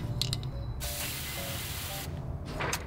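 An aerosol spray can hisses as it coats bare metal on a Mazda MX-5 NC after rust removal, one sustained close burst of about a second flanked by shorter spurts and faint handling clicks.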